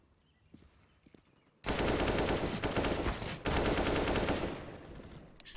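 AK rifle fire in the Counter-Strike video game: after a quiet start, a loud sustained automatic burst of rapid gunshots runs for several seconds, briefly pausing, then continuing before cutting off.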